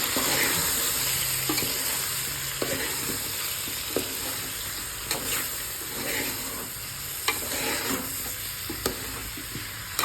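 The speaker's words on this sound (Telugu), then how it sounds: "ఇప్పుడు ఇవన్నీ వేసి ఒకసారి కలుపుకుందాం." Sambar ingredients being stirred together in a pot for a Telangana-style sambar: a constant soft sizzle broken by regular spoon knocks and scrapes at close range.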